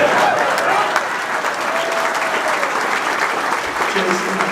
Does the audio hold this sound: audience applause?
yes